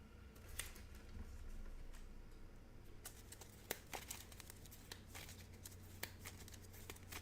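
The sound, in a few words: shuffling a deck of cards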